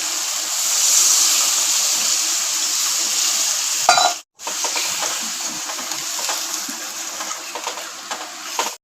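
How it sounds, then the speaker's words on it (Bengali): Spice paste frying in oil for a stuffed pointed gourd curry hisses steadily, then a loud splash and surge of bubbling sizzle follow as water goes into the hot pan, with a brief cutout partway through. "এখন আমরা দিয়ে দিব হালকা পরিমাণের জল"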